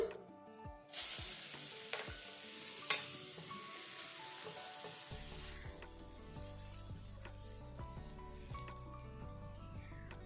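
Grated coconut filling for patishapta pitha is stirred in a pan, giving a soft, continuous sizzle with scraping strokes that gives way to a steady low hum in the second half.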